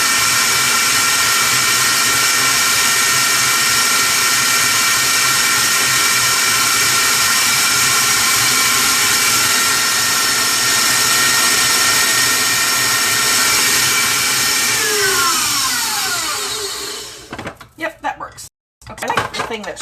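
Electric mixer whirring steadily as it beats lumpy cream cheese for a lemon chiffon pie, a loud continuous motor drone with rattling against the bowl, cutting off near the end.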